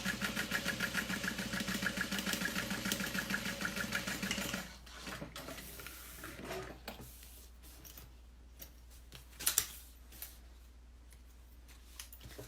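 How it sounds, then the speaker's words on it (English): A sewing machine runs in a steady, fast mechanical buzz for about four and a half seconds while stitching along the top edge of a minimalist fabric wallet, then stops, leaving low hum and a few faint handling clicks. "stitch along about 1/8 of an inch from the top edge"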